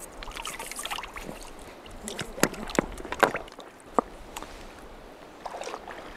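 A jasper rock is rinsed by hand in river water on the Skokomish River in western Washington, giving a few close splashes and sloshing trickles with sharp drips against a quiet flowing-water background.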